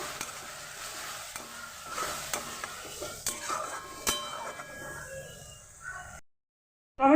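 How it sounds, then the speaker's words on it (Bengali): Masala for paneer chana masala being fried and stirred in a pan with a little water, a soft continuous sizzle broken by repeated scraping strokes and light clinks, fading out near the end. "ভালোভাবে মশলাটাকে আমি কষিয়ে নেবো"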